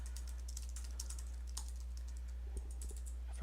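Light clicking keystrokes come in irregular bursts from a computer keyboard, fairly quiet over a steady low electrical hum, with no one talking.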